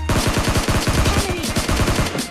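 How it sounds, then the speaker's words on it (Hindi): Rapid automatic gunfire in a video game rattles off in a long, loud, continuous burst of evenly spaced shots, close-up with no talking. "ये गाड़ी पे तुरंत गोली चलाने लगते"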